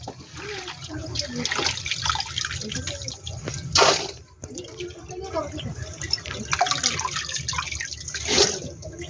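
Running tap water pours steadily over water spinach (kangkong) being washed in a kitchen sink, with splashing and dripping near the microphone and a couple of louder gushes, under a person talking.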